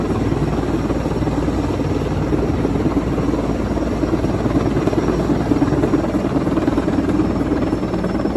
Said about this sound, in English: This helicopter was lifting heavy cargo, but then dropped the cargo in the middle of the street.